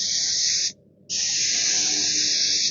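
Paint spray gun hissing steadily as it coats MDF panels, a loud close two-part burst with a short pause between, no voices.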